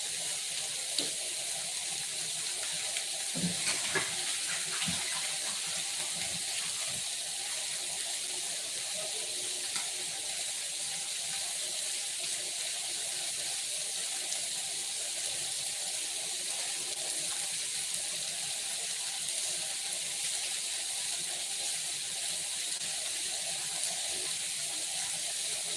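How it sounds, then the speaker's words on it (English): Tap water runs steadily into a kitchen sink during hand washing while dinner cooks nearby, a continuous near hiss and splash lasting throughout with no talking. "I'm gonna go wash my hands real quick"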